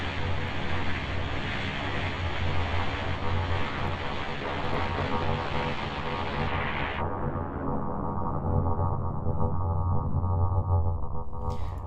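A dense, droning synth tone with metallic ring-modulated overtones and slow wavering movement; the bright upper layer cuts off partway through, leaving a darker hum.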